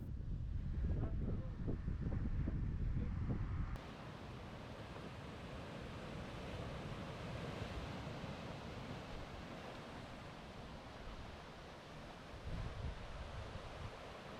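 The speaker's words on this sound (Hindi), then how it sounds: "ये वाटरफॉल थोड़ी सी यूनिक है क्योंकि ये सीधी समंदर में गिर रही है" Waterfall plunging straight into the sea on Jeju Island, South Korea, with surf: a steady broad roar of falling water and waves, loud at first and then a constant rushing wash with some wind buffeting.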